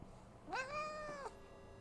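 A house cat gives a single clear, drawn-out meow, close and fairly quiet against a faint background hum.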